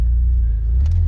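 A low-mileage Saab 9-3 TurboX idles with a steady, deep rumbling engine note, close and loud, with a brief faint blip near the end and no talk.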